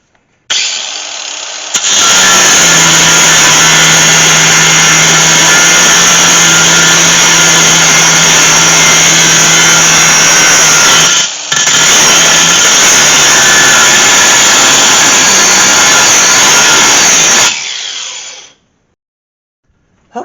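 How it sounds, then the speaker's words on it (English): Power tool grinding and cutting tough car body metal on a Gremlin, a loud, continuous high whine held for about fifteen seconds with one short break, close up and with no talk. "combination grinding, cutting, and hammering"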